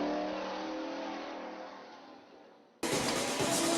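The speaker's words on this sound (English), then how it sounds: "trucks, street stocks, and four-cylinder stocks burning up the track" Stock cars, trucks, street stocks and four-cylinder stocks race at Drury Lane Speedway, with loud sustained engine roar that fades slightly before an abrupt jump to a harsher, brighter blast of passing cars.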